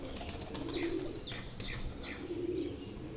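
Breeder pigeons coo softly in a loft, low repeated cooing phrases under a steady noisy background, with faint chirps and no talk.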